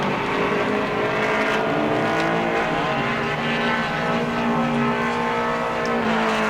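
A mod mini race car at New Smyrna on a qualifying lap, its engine droning loud and continuous at sustained high revs with a dense buzzing tone throughout, no voices over it.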